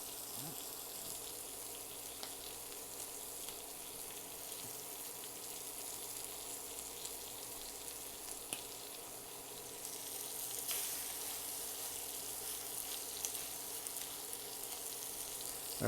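Shrimp burgers sizzling in a pan, a steady soft frying hiss that runs throughout at moderate distance, with a faint scrape or two as a patty slides over and another goes in.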